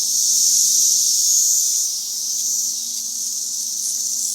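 Loud, steady cicada chorus buzzing from trees outdoors, a continuous high-pitched shrill drone with slight swells and no talking.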